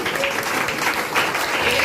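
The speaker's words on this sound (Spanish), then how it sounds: "Dele fuerte ese aplauso." A church congregation applauds during a sermon. The clapping is a dense, steady roar from the whole crowd with no break, loud and close.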